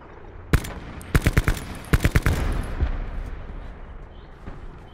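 Video game gunfire: a single sharp shot, then two quick bursts of three or four rounds each, loud and close, followed by fading rumble and one softer distant report.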